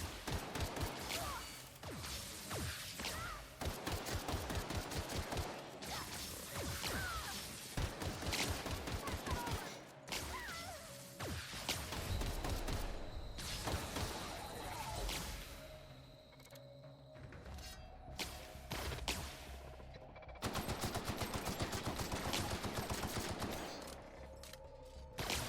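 Heavy gunfire in The Outer Worlds, a sci-fi shooter, with rapid bursts and crashing impacts firing almost continuously. It stays loud and dense for most of the stretch, with short pauses and some voice mixed in.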